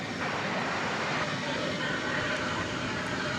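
A UPS MD-11 cargo plane at DFW Airport at night, a steady broadband engine roar holding constant, heard at some distance, with faint voices in the background.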